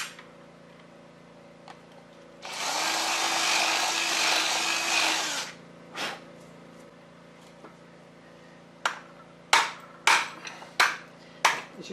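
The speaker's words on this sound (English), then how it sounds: "Drill a little bit more out of that." A power drill whines for about three seconds drilling out a rusted part of a Harrison M300 lathe feed gearbox, followed by a few short metallic clicks and sharp taps near the microphone.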